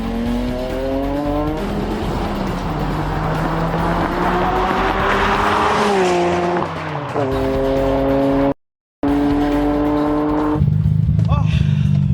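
A street car roars through a drag race against a Mustang: a loud, close engine climbs in pitch, drops at each gear change, then pulls hard again, ending with a rough, rising rev.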